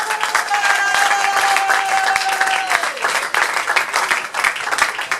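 A church congregation at a Sunday service bursts into sustained applause that stays loud and full throughout, with a few voices and tones rising above the clapping.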